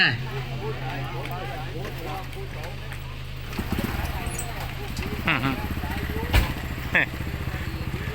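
Motorcycle engine idling and puttering nearby during a village house-blessing ceremony, with a steady low rumble, a few louder revs and clacks, and people talking over it.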